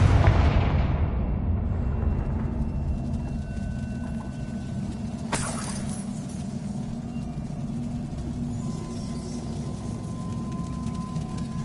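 Confringo, an explosive fire spell in Hogwarts Legacy: a deep booming blast at the start that fades into a long, steady rumbling roar, with one sharp crack midway, loud and continuous.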